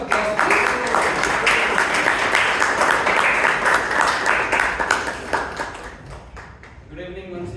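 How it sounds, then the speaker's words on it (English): A loud round of applause at a Toastmasters club meeting in Bangalore, many hands clapping close and dense for about six seconds before fading out, followed by a voice beginning to speak. "A loud round of applause, please."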